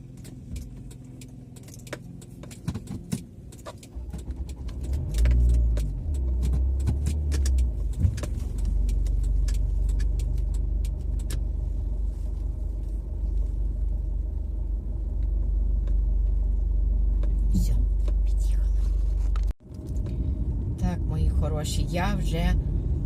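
A car driving home along the road gives a steady low rumble of engine and tyres throughout, with occasional keys or small rattles jangling inside the cabin and a brief dip before the drone resumes.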